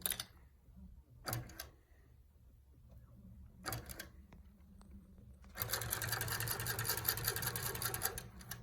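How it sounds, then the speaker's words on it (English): A Pro-Stitcher-guided longarm quilting machine couching yarn runs its locking stitch: a few short mechanical bursts, then a steady, close rapid stitching whir that continues to the end, with no talk. "I go to Pro Stitcher, Quilt, and Run, and proceed. It will do the locking stitch."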